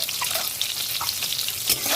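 Eggs fry in hot oil with turmeric, with a dense close sizzle and light spatter across the short stretch, steady and without talk.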